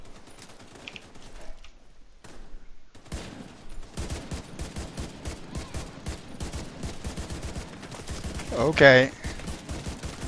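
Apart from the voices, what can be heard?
gunfire from enemies in video game The Division 2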